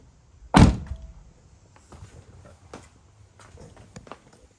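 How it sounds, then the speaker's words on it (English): A BMW E60 M5 car door shuts with a single solid thunk, followed by faint knocks and small handling noises in a quiet space. "Close the door."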